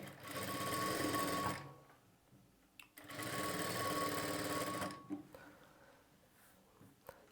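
A sewing machine stitches a lining piece onto a blouse's main fabric in two loud, steady runs of about one and a half and two seconds, each stopping abruptly, with quiet handling sounds between.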